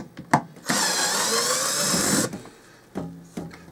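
A handheld power drill runs steadily at high speed for about one and a half seconds, loud and close, with short clunks and handling noises before and after, indoors during work adding power outlets for a television.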